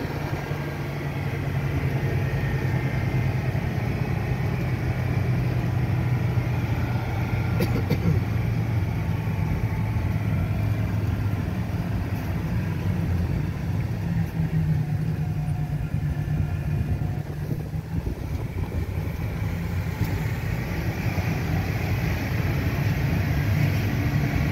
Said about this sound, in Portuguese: o motorhome tá em primeira